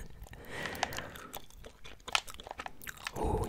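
Close, moist gum chewing with soft smacks and small crunchy bites in an irregular rhythm, quiet and intimate, recorded during Fortnite gameplay.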